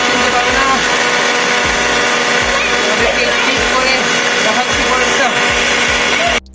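A kitchen mixer grinder churns cream to make ghee, a loud steady motor whir with rhythmic thumping as the grainy butter tumbles, running continuously until it cuts off at the end.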